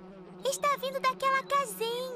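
Cartoon bees buzz inside a small garden beehive, a steady low drone running beneath a voice speaking throughout.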